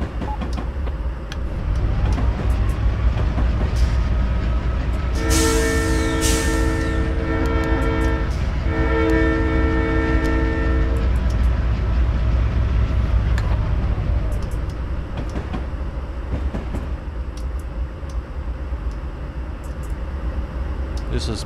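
A train sounds a long two-part horn blast while rolling past near Glacier National Park, over a steady low rumble of wheels and cars that continues after the horn fades.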